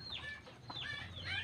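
Asil chickens cluck nearby in three short, high, downward-sliding calls against faint low background noise.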